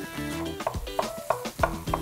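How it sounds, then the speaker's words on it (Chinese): Sliced onions sizzle in chicken fat rendered from pan-fried chicken thighs, with repeated clanks and scrapes of a utensil stirring against the pan, close and busy. "煎我们鸡腿肉的鸡油炒我们的洋葱"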